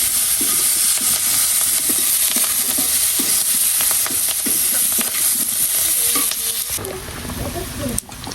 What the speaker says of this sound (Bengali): বেগুনগুলো দিয়ে দেবো উপরে, একটু ভেজে নেবো